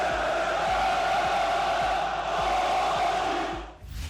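Large crowd of football club fans roaring in a stadium, a continuous dense wall of voices with rhythmic low thumps, steady and loud before dropping away at the end.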